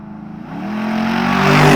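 A fuel-injected 430-horsepower aluminum General Motors LS3 V8 in a restored, modified Chevy Thriftmaster pickup revs up steadily, its deep engine note rising and growing louder over nearly two seconds, close by with no talk.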